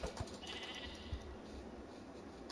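A sheep in a video game gives a couple of short bleats over a grainy, noisy game ambience, faint and not very distinct.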